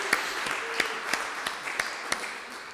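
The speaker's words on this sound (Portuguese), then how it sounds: "Dá uma salva de palmas para Ele." A church congregation claps together in applause, sharp distinct claps rising above a steady wash of hand clapping at moderate distance, with no talking.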